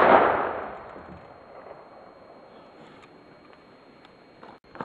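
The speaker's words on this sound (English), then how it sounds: "now that you've seen me shoot it" A single sharp report from an old clip-fed lever-action rifle, loud and near at the start, decaying into a long fading tail with faint outdoor background after.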